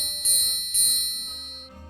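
Two loud bell strikes in a mystery video game, one near the start and one midway, each ringing bright and metallic before slowly decaying, with a lower hum rising at the very end.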